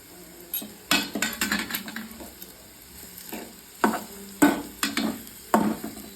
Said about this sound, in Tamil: இப்போ நம்ம இந்த வெங்காயத்தை அதில் கொட்டியாச்சு. நல்லா ஃப்ரை பண்ணணும்.